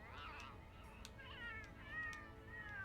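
A house cat gives a few high, drawn-out meows close by over a low background hum. Speech may sit faintly underneath.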